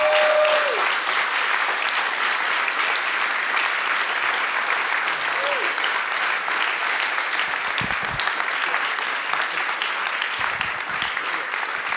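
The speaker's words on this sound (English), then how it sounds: "Let's give a big round of applause for Dax Da Silva, our host tonight, really loudly" A startup event crowd gives its host a loud, sustained round of applause, thick and unbroken throughout, with a few brief whistles rising above the clapping.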